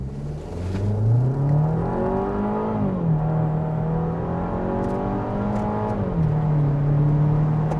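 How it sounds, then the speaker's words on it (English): A 2026 Volkswagen Tiguan accelerating hard in sport mode, its engine note rising steadily through gears with audible shift dips, loud and close from inside the cabin, no talk. "let's see how quickly we can get our new 2026 Volkswagen Tiguan here up to speed"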